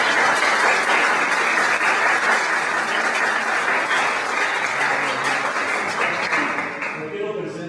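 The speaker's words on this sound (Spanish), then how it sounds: "Les pido un aplauso para Carlos Juárez." An audience at a scientific talk gives Carlos Juárez a long, dense round of applause that holds steady and then tapers off at the end.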